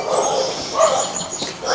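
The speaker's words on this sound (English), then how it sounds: "There are a lot of dogs barking here." Several dogs barking and yipping at an animal control facility on Long Island, short overlapping barks heard at moderate distance in a brief burst.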